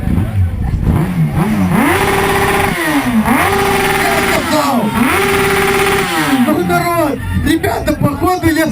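A 600cc motorcycle with a loud aftermarket exhaust at a loudest-exhaust contest revs repeatedly in rising and falling sweeps, close and very loud, while a crowd chatters in the background.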